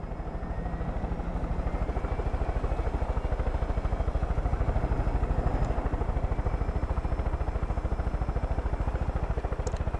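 A helicopter in Far Cry 5 drones with a steady, fast rotor thump and engine whine, loud and continuous throughout with no talking.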